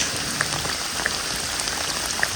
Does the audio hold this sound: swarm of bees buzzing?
no